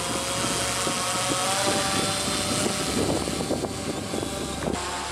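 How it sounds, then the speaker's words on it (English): A science drone flies over the Greenland ice sheet, its propeller whine and buzzing engine drone sounding steady and fairly loud throughout, with no talking. "the Dark Snow Project began deploying science drones over Greenland ice."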